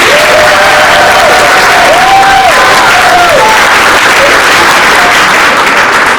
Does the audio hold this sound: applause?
yes